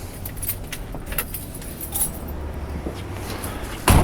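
Car keys jangle with light metallic clinks for a few seconds beside a 1966 Plymouth Satellite Hemi, over a low steady rumble, ending in a louder clunk.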